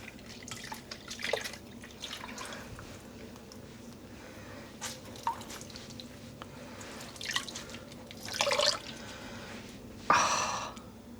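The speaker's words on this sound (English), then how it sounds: "Just dunking it like so and squeezing out the water." Water drips from dyed yarn being squeezed out by hand, faint scattered drips and splashes over quiet background, with a few louder trickles near the end.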